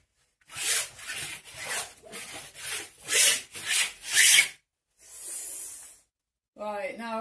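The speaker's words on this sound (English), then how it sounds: "Back in with the palette knife, so I'm going to scrape some of that paint around." A palette knife scrapes paint across a canvas in a series of about seven rough, rasping strokes, close and fairly loud, ending with a brief voice.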